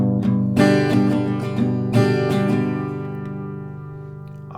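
An acoustic guitar plays a strumming pattern for a song, with sharp, ringing down and up strokes in an uneven rhythm, the chords sustaining and decaying near the end, close and clear with no talking.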